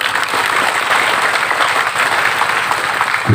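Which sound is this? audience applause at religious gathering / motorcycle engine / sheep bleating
audience applause at religious gathering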